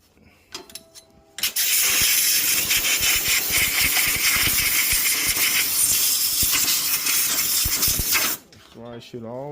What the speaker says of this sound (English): always blow your motor out. That area where the spark plug sits in, because there's a lot of dirt always sits in there